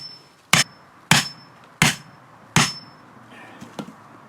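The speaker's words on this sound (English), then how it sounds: "pounded in the pegs that he cut, the supports" Four sharp hammer blows drive cut wooden support pegs into the ground at a greenhouse build, evenly spaced and close, followed by a couple of fainter knocks.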